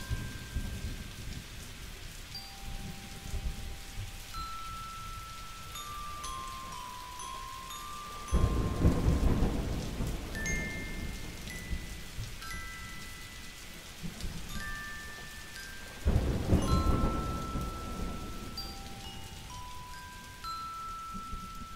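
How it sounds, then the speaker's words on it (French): Steady rain patters over the whole stretch, with two deep rolling thunder rumbles swelling up partway through, close and heavy. "Il écoute son chant, si particulier, le chant de la pluie."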